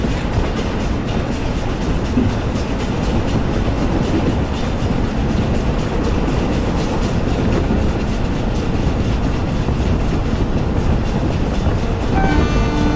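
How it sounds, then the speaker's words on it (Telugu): A goods train on a Kerala route in the Train Simulator Classic video game, a loud continuous rumble of wagons rolling close by with steady clickety-clack, and a brief horn-like tone near the end. "ఇదో గూస్ ట్రైన్ని మనం ఓవర్టేక్ చేసుకుని వెళ్ళిపోతున్నాం"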